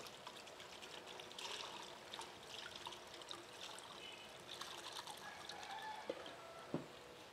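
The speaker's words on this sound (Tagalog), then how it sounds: "Hugasan po natin siya ng tubig." Tap water trickles and splashes softly as tapioca pearls are rinsed, a faint, continuous running stream with a few small drips and sloshes near the end.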